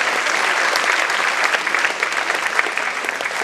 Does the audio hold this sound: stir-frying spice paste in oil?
no